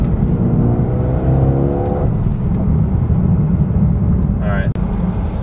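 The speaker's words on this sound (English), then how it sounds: "And it just pops like crazy. You can just hear it spool up." Mercedes A35 AMG engine revving and spooling up, with a rising whine and a sharp exhaust pop near the end, loud and close inside the car.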